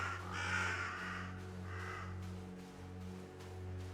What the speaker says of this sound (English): Like how we get to hear the goat in addition to all the birds.